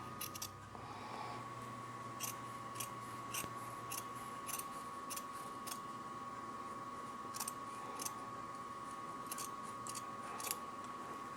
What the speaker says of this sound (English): Making sure to trim it without cutting the backing or what's behind it all the way around.